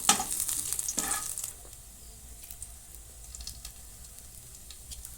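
Ginger, garlic and chopped green chilli fry in hot oil, a bright sizzle with spatula scrapes and stirring bursts in the first second and a half, then settling into a quieter steady crackle.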